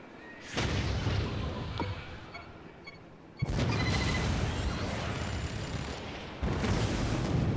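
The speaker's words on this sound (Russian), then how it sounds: "Взрывают наши машины." Explosions blow up vehicles during a city assault battle in the Spore video game, with loud sustained booming blasts in three bursts separated by brief lulls.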